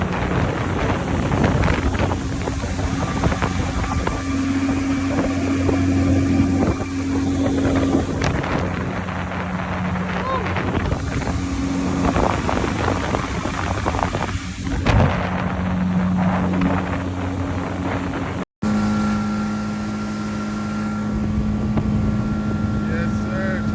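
An outboard engine runs on a 14-foot custom flats fishing boat, a loud steady motor drone with wind buffeting the microphone, continuous and close, briefly cutting out near the end before resuming.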